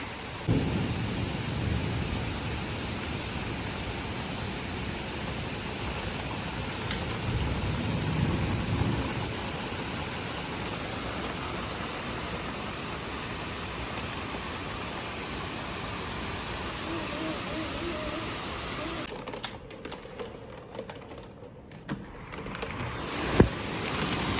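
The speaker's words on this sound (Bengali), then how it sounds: "শিলাবৃষ্টি শুরু হয়ে গেছে" A morning hailstorm with rain and thunder, a steady broad roar of rain and hail on surfaces with low thunder rumbling underneath, continuing throughout without speech.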